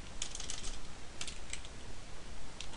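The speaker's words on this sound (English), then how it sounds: "I literally type in here" Keystrokes on a computer keyboard while entering an Access 2010 formula, a short scattered run of light clicks close up over a faint background hiss.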